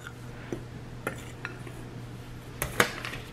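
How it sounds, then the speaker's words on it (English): A utensil stirs a dry mix of flour, baking soda and salt in a bowl, giving a scattering of light clinks and taps against the dish at irregular intervals over quiet background. "We're gonna mix up the dry mix"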